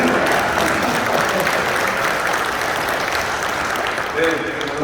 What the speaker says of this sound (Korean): 여자 장로님들이 박수 치시는 거예요